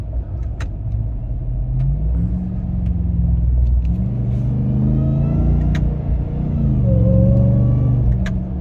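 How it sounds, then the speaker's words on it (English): A supercharged Ram TRX truck engine with a stock intake revving and accelerating through rising and falling gears, loud and close from inside the cab, with a whining supercharger over the rumble. "I have a stock intake on here, and the supercharger is louder."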